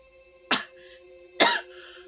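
Two short, dry coughs about a second apart, close and fairly loud over a quiet steady hum, as if heard inside a car during a night drive.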